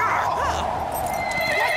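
A cartoon horse gives a loud, close whinny with a rising-and-falling neigh, accompanied by a few hoof clip-clops against a steady background of ambient noise and faint score.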